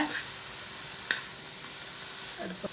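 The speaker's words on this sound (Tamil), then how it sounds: "இப்போ கேரட்டு, வெங்காயம், தேங்காய்லாம் போட்டதுக்கப்புறம் நம்ம மேலே கீழேயுமே நல்லா கிளறி விட்டுக்கோங்க." Peanuts tossed with grated carrot, onion and coconut in a pan, giving a steady soft sizzle with occasional scraping stir strokes and light clinks near the end, no talking.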